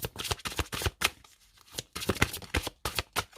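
Oracle cards shuffled by hand for a tarot reading, a close, steady series of quick riffling bursts with one brief pause midway, heard alone without talk.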